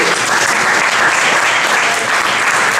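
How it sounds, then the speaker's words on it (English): A conference audience at a Silicon Valley mobile industry meetup applauds event sponsors: steady, dense clapping from many hands, loud and sustained throughout without letting up. "so let's give a big round of applause for them."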